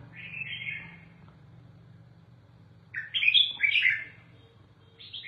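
A pet bird chirps in two bursts of bright, high tweets, one early and a louder cluster later, over a steady low hum, close by and alone without talk.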